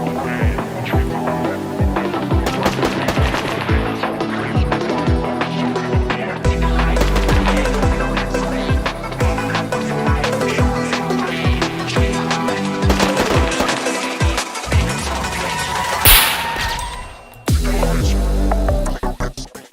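Sniper rifle gunfire in the game SCUM: loud, sharp shots crack out repeatedly over dense, continuous game sound and music, with a steady rhythmic pulse running throughout and a brief drop near the end.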